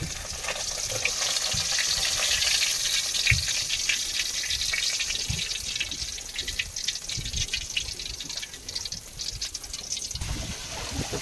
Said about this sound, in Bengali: ততক্ষণ মাছগুলো ভাজা হতে থাক